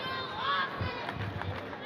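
A hometown crowd chants and cheers at a boxing match in a municipal auditorium, a dense, distant wash of voices with faint rhythmic pulses.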